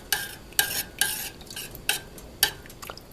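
A spoon stirs basil into a pot of Campbell's vegetable soup, making about six quiet scraping strokes in a loose rhythm with short pauses between them. No talking is heard.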